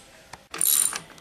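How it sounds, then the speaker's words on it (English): A ratchet clicks in a short, fast burst during the mechanical build of a giant robot, set against a quiet room. "Hey, little Squirtle, do you want to do some ratcheting?"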